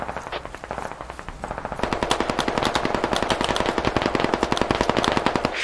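Rapid machine gun fire in a video game battle, a sustained burst of sharp evenly spaced shots that gets louder and denser after a brief lighter stretch, close and dominant with no speech.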